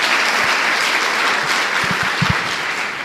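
A church congregation applauds during a worship service, a loud, dense sheet of clapping that runs throughout, with a few low thumps near the end.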